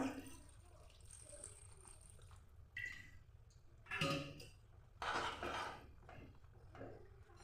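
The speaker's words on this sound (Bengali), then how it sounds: "আমি দিয়ে দিচ্ছি পরিমাণ মতো জল" Water is poured into a cooking pot holding spices, salt, turmeric and ginger-garlic paste for a drumstick, potato and onion dish, in a few short splashing bursts separated by quiet kitchen clatter.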